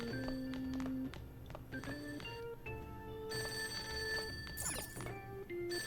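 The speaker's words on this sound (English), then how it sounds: "That ringing sound isn't coming from my cell phone. I hear it's coming from downstairs." Persona 5 Royal game scene where a telephone rings downstairs, a faint repeating bell mixed into layered synth game music and tones, fairly quiet overall.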